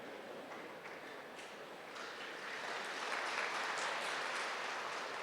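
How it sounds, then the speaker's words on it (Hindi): Audience clapping at a spiritual talk, a broad steady wash of many hands that swells slightly louder toward the end, with no voices over it. "आपने ताली बजा दी"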